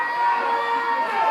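Wrestling crowd at an IZW independent show roaring and cheering in a sustained, dense wall of voices with whoops, steady and loud throughout after a dive to the floor takes out the tag team champions.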